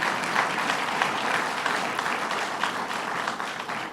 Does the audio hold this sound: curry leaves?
no